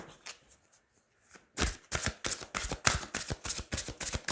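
Tarot cards are cut and then shuffled close by. A few soft taps give way to a brisk run of rhythmic riffling flutters and slaps that goes on steadily, with no speech over it.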